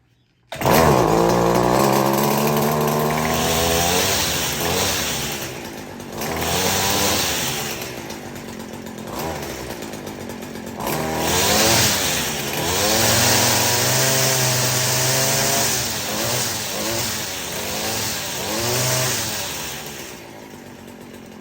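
A string trimmer engine catches after choking and priming, then runs loud and close, its two-stroke buzz revving up and dropping back several times throughout.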